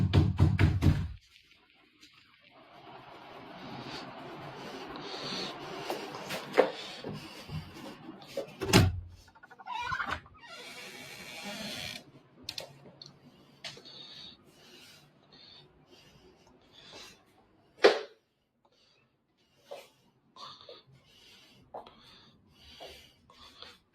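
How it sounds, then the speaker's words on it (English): Scattered sharp knocks sound from somewhere inside a house, a few loud isolated raps and several fainter taps spread irregularly over a quiet, hissy room background with no talking. "Mysterious knocking noises can be heard coming from somewhere inside of the house."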